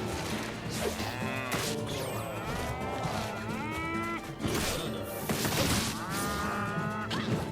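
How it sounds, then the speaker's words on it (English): Repeated cow moos from a video game, Town of Zoz, play over several seconds, loud and clearly pitched, with occasional crash and thwack effects mixed among them. "This goddamn cow."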